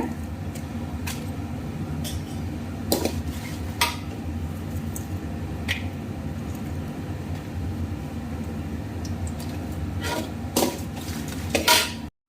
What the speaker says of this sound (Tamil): இப்போது நம்ம எடுத்து வச்சுருந்த காஞ்ச மிளகாவையும் பூண்டையும் கொஞ்சமாக எண்ணெயில் வறுத்து எடுத்துக்கலாங்க.